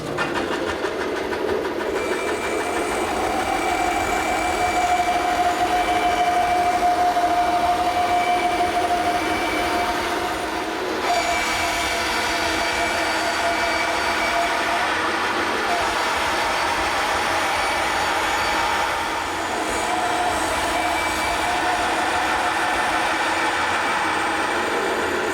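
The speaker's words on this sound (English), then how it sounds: "turn the bandsaw on and just slowly rotate it around" A bandsaw cuts a round wooden patio table top as it is slowly turned on a circle jig, producing a steady, unbroken mechanical drone and cutting noise for about twenty-five seconds.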